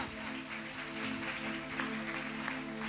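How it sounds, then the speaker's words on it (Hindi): Applause from a church congregation at a Friday youth revival gathering, a steady wash of many hands clapping held at moderate loudness for about three seconds, with a faint musical drone underneath. "ओ जोरदार तालियां।"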